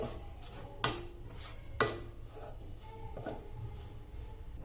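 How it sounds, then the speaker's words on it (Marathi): A spoon scrapes and knocks against a pan while sabudana powder is stirred on a low flame, two sharp clinks standing out over soft, close rubbing and shuffling. "याला आता लो फ्लेमवर आपण थोड्या वेळ हलवून घ्यायचं"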